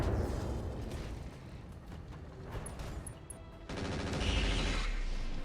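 Thermobaric missile blasts in the mech combat game RogueTech, a dense run of heavy, rumbling explosions that swell louder toward the end, with no voices.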